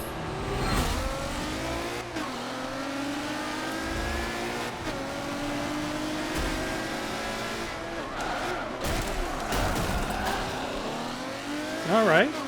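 A race car engine accelerating in the video game Forza Motorsport 7, with a continuous roar whose pitch climbs and falls through gear shifts and a loud rev near the end.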